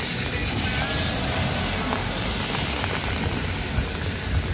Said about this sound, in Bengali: এই বৃষ্টিটা অনেকটা বাংলাদেশের মতো টিপটি টিপটি একটানা পড়ছেই সারাদিনই পড়েছে